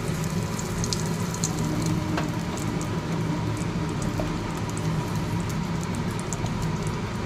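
Asafoetida hitting hot oil while tempering boiled urad dal, a dense, steady crackling sizzle like light rain, close and even throughout with tiny pops scattered on top.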